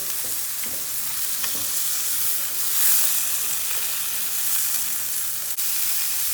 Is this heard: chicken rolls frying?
yes